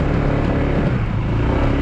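A motorcycle rides a trail near Mayon Volcano's green lava area, its engine roaring loud and close as one continuous, rough drone mixed with wind and road rumble.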